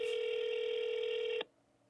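A telephone handset emits a steady, loud dial-tone-like beep for over a second, then cuts off abruptly into near silence as a phone number is called.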